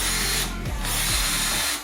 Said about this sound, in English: I've got an orbital buffer, so I'm going to use it.